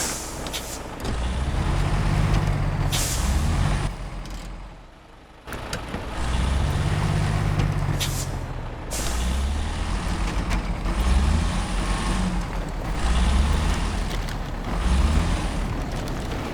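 Heavy 8x8 truck in SnowRunner, its diesel engine grinding in a deep, loud low rumble that surges and drops through the clip, with a brief lull midway and hiss-like bursts suggesting air brakes.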